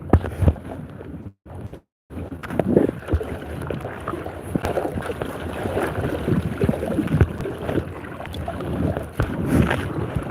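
Wind buffets the microphone while paddling a boat on a lake, a rough low rumbling roar that rises and falls in gusts, with faint water and paddle sounds underneath, one brief drop-out near the start, and no talking.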